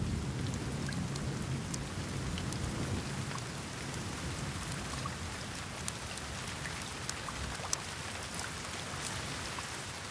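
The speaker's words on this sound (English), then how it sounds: "The longer it rains," Steady rain falls on open mountain grassland in the Drakensberg, a continuous dense hiss with scattered louder drops and a low rumble underneath, no voices.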